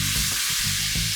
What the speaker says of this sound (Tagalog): pwede na rin nating i-pan fry yung mga tuna na ginawa natin ganito